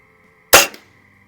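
A Diana model 45 .177 springer air rifle fires one sharp, loud shot at an outdoor range, a single crack with a short metallic spring twang that dies away quickly against quiet background hum.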